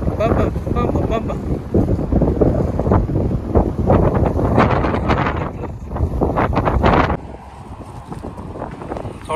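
Strong desert wind gusting across a microphone in Kuwait, blowing sand along; loud, continuous roaring buffets with rumbling low end, easing somewhat near the end, with a voice speaking briefly over it.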